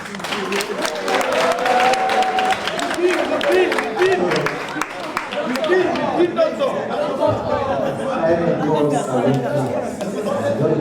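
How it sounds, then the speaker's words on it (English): Applause and crowd chatter fill a room at a government press conference, dense clapping mixed with voices that runs steadily throughout at close range, with people talking over it. "Don't clap."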